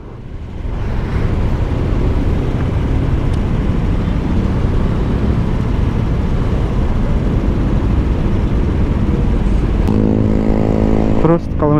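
Honda Vario 160 scooter fitted with a WRX GP3 aftermarket exhaust, a loud steady engine drone held for about ten seconds before a sharp revving burst near the end, no talking.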